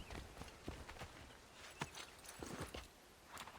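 Faint horse hooves clop in irregular quick steps in the video game Assassin's Creed 3, soft and somewhat distant amid low background ambience.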